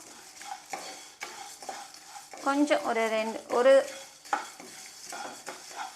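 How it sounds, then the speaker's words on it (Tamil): Masala tea spices are dry-roasted in a hot pan, with close rattling and scraping stir strokes, clinks against the metal and a faint sizzle, plus brief speech. "கொஞ்சம் ஒரு 10 செகண்ட் இந்த மாதிரி நீங்கள் வறுத்து விட்டுட்டு"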